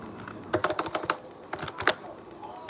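Quick bursts of clacky keystrokes on a mechanical computer keyboard, typed in short rapid runs with brief pauses, close and fairly quiet.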